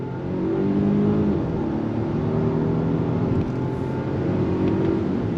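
A 2024 Volvo XC90 Recharge luxury SUV pulls out of a right-hand bend under throttle, a steady muffled drivetrain whir and road noise heard from inside the cabin, rising slightly in pitch, with no talking.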